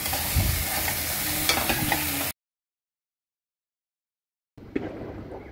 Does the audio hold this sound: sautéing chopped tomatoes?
yes